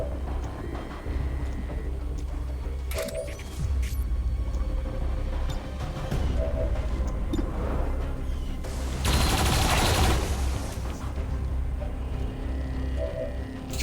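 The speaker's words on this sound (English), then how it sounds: "let's take shots with the turrets if we got them" Turret gunfire in the video game XCOM 2: bursts of shots crack out over a steady rumbling game soundtrack, with a dense, loud barrage near the end.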